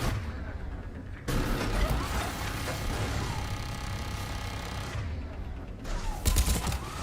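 Gunfire in the Mass Effect video game: dense, continuous bursts of rapid shots and impacts filling most of the stretch, with brief quieter gaps and a final loud flurry near the end.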